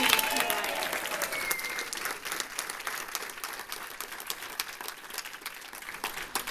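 Sustained applause from a crowd at a women's rights convention, dense steady clapping filling the whole stretch with faint voices mixed in.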